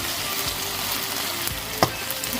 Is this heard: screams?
no